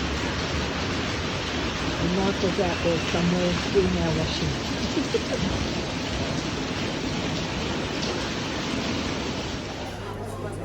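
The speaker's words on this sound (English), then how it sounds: "Raining and hailing." Steady heavy rain and hail hiss throughout, a dense outdoor wash of sound, while a person speaks briefly over it.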